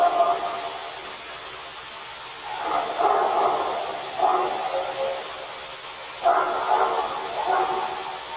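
A dog barks in a played-back recording, several muffled, distant-sounding barks in small clusters over hissy background noise, with speech around them.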